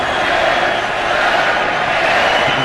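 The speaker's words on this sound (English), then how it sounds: "This crowd has been letting the young fella have it all day long" A basketball arena crowd roars steadily throughout, a dense, loud wash of many voices jeering a young player during a Pacers at Celtics playoff game.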